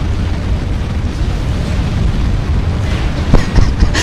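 Missile weapons fire and explode in the mech combat game MechWarrior Online, a continuous loud rumbling barrage with sharper blasts near the end.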